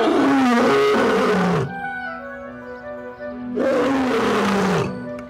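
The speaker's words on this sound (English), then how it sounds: "an Asiatic lion, one of the planet's rarest animals" A male Asiatic lion roars in two deep, loud, close bellows separated by a brief quieter pause filled with low grunting breaths.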